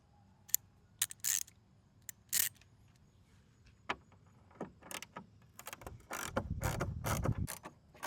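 Torx 40 screws come out of the cowl panel of a Jeep Gladiator with scattered close clicks and scrapes, ending in a louder stretch of rattling and handling of the plastic piece.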